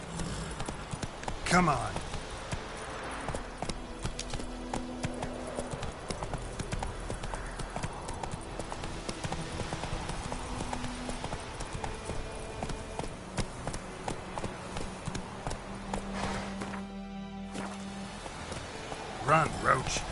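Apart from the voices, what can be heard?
horse Roach galloping in video game The Witcher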